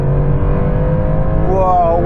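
Porsche 911 Turbo S engine pulled hard in third gear, a loud steady roar climbing in pitch toward the end, heard from inside the cabin.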